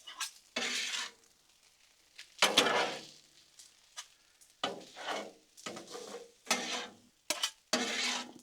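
Shrimp fried rice with egg is stirred and scraped on a Blackstone griddle. Metal spatulas make a series of separate harsh scraping strokes, about ten of them with short pauses between, close and fairly loud.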